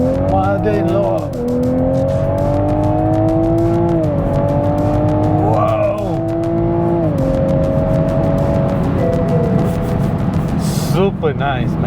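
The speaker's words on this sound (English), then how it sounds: "That's a beautiful sound of a straight 6, and that's not even in sport mode." A Toyota GR Supra's straight-six engine, outside sport mode, drones loud and close with a smooth harmonic tone, its pitch climbing and dropping back through several gear changes over about twelve seconds.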